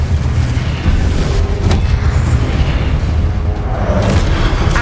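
A Confringo blasting spell goes off in Hogwarts Legacy, a loud, dense booming blast that rumbles continuously through the moment without pause, sitting close and heavy with no talk over it.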